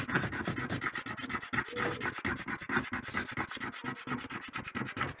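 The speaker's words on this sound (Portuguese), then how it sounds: "Para poder fazer o teste de ranhura com a unha aqui" A fingernail scratching back and forth across the sanded paint surface of a helmet, a steady run of close, rapid rasping strokes with no talking.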